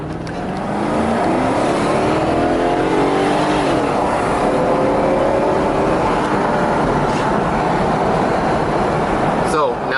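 A Mercedes-Benz SL500 R129 roadster with low original mileage accelerates hard, its engine note rising steadily through the gears and holding loud and close for the whole stretch.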